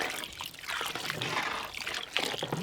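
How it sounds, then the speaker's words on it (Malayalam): Black pepper powder mixed in water pours with a light trickle into a pot while chicken porridge is cooked in a village, a short splashy dribble close by. "കുറച്ച് കുരുമുളക് പൊടി വെള്ളത്തിൽ കലക്കിയത്"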